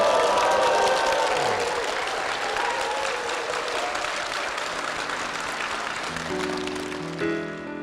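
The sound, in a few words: applause for the two people who gave testimony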